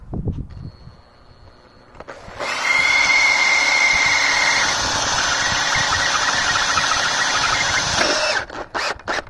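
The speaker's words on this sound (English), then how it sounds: "you just want to drill that rod right out" A power drill whines steadily at high speed for several seconds, drilling out the solenoid rod of a riding mower carburetor, starting abruptly and cutting off near the end, with faint clicks before and after.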